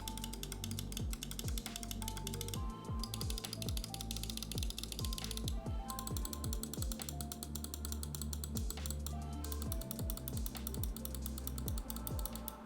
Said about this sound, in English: these optical clicks, they just sound so darn crisp.